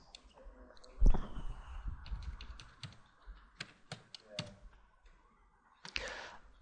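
Computer keyboard shortcuts typed during a structural modelling software session: a series of sharp, separate clicks and taps at irregular intervals, fairly close and clear, with quiet gaps between keystrokes and no talking.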